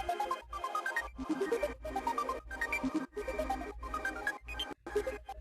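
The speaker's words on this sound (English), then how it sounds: "Yeah, so that's one of the sounds that I made out of the samples." Dreamy synth arpeggio built from sampled sounds, run through delay, Replica reverb and Kickstart sidechain ducking, with rising stepped note patterns that pump rhythmically in short bursts; loud and alone, no voice.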